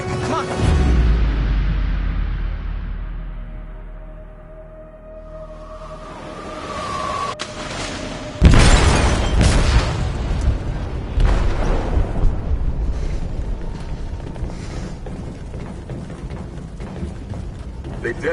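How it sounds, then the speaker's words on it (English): A shipboard explosion in Detroit: Become Human, a sudden heavy boom with low rumble after rising mechanical rattling and creaking, followed by sustained loud roaring debris and turbulence. "They detonated an explosive in the hold"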